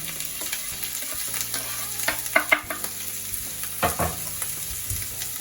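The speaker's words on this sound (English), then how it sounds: "so I'm just going to fry them off in a bit of olive oil" White onions, mushrooms, garlic and chilies frying in olive oil, with a constant close sizzle broken by a few louder stirring knocks and scrapes against the pan.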